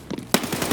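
Gunfire in the video game Escape From Tarkov, a quick burst of automatic shots, loud and sharp, with a heavier crack partway through and no talking.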